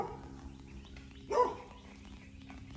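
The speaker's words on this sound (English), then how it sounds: "That dog sure likes to bark." A dog barks outdoors near wild muscadine grapes during a nest hunt, a single bark at moderate distance standing out over quiet background hiss.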